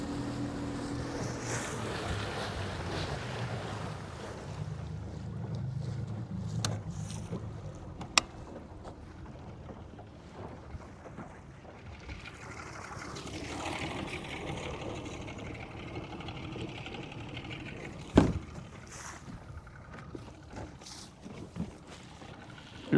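Boat moving through water with spray thrown up around the hull, a rushing splash and wash over wind noise, steady with surging swells and a couple of sharp knocks.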